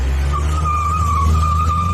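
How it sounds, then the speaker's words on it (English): A car's tires screech as it pulls away, a steady high squeal held for about two seconds over a low engine rumble, close and loud. "it sounds like the car is screeching away"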